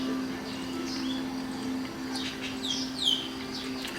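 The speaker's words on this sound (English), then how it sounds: "You hear all the birds." Birds chirp and tweet in short, scattered calls at moderate distance on a morning in northern Thailand, over a steady hum and background noise.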